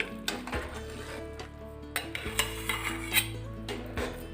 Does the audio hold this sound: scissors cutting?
no